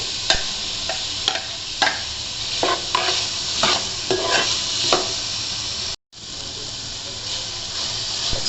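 Chicken goes into a hot pan for fried rice and is stir-fried with a continuous loud sizzle and hiss, broken by repeated scraping and tapping strokes of a spatula, then a brief cut before the sizzling resumes.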